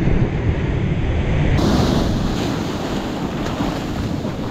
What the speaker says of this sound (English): Look at those waves though. This surf's really starting to get rough